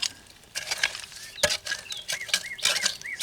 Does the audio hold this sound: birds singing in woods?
yes